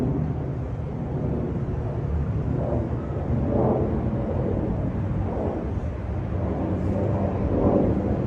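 A broad, steady airplane engine roar rumbles continuously, deep and distant-sounding, swelling as the plane passes overhead.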